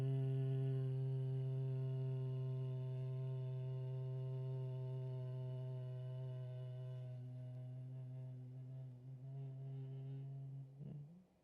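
A long, steady voiced hum sustained on one pitch during a slow exhalation in a breathing exercise, fading gradually and crackling briefly just before it ends.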